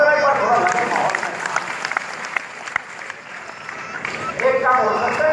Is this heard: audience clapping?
yes